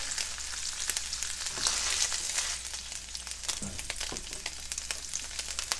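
Ground beef sizzles and crackles in hot grease in a skillet, a close, continuous frying hiss with scattered pops and a brief stirring scrape, heard on its own with no talking.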